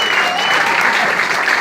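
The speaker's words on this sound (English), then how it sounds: "Another round of applause to our public advocate, Cliff James" Loud, dense applause from a town hall meeting audience, a continuous close clatter of many hands with a hint of crowd noise.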